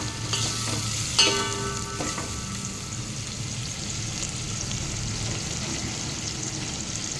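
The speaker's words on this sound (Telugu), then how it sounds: "సో ఉల్లిపాయలు ఇలా వేగిపోతున్నాయి." Onions fry in a pan with a steady close sizzle and a few clinks and scrapes of stirring early on, no voices.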